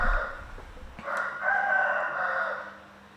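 A rooster crows once, a loud drawn-out call starting about a second in and fading toward the end, with low background noise and no talking.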